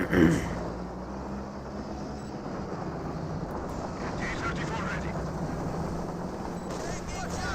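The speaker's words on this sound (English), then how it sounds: "Another strafing run onto the Maxim, getting some great damage there." An aircraft strafing run in the World War II strategy game Company of Heroes 2 comes through as a dense, continuous roar of rumbling engine and gunfire noise, steady and loud throughout with a brief louder burst at the start.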